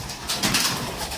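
Young racing pigeons, Tournier Houben crosses, coo in a loft, a soft continuous murmur of cooing lasting only a moment, with no talk over it.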